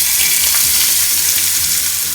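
Sliced onions, two large ones cut lengthwise, frying in hot oil with mustard seeds for a Kerala-style rabbit roast; a steady, loud, continuous sizzle with faint stirring, no voices.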